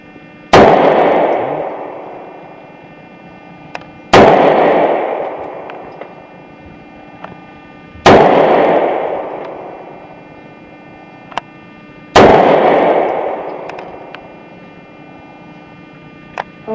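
Four loud, booming gunshots at an outdoor shooting range in the USA, evenly spaced about four seconds apart, each with a long decaying echo, plus faint clicks between shots and no speech.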